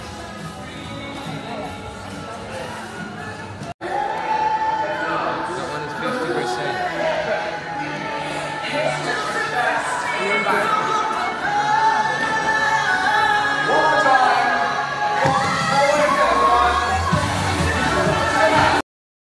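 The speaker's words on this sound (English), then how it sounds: "Crowd starting to build up." A crowd gathers on a cruise ship, a dense babble of many voices chattering nearby at a steady level throughout.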